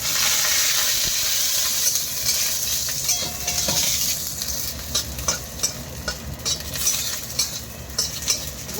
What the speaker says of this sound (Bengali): বড়িটা ভাজি, এটা কিন্তু হাতে বানানো বিউলির ডালের বড়ি।